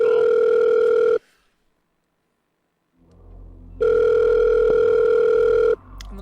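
A telephone call connects: a loud, steady electronic dial tone cuts off abruptly, a second of near silence with faint line hiss follows, then the same tone returns for about two seconds before stopping.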